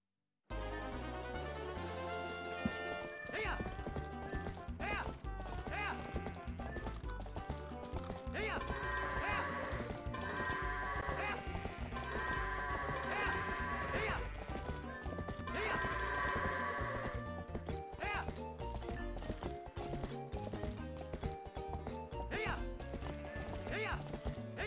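Hoofbeats of the horse Epona and bleating goats in the Zelda: Twilight Princess video game, set against continuous game music with rhythmic clip-clop, a whinny and occasional crashes throughout.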